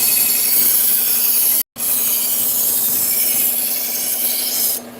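Kitchen knife steel rasps steadily on a sharpener, a continuous close grinding scrape broken by one short pause, with no voices.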